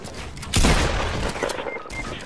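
Rapid gunfire in the video game Fortnite bursts out loudly and keeps going as a dense volley, with muffled voices of players in the background.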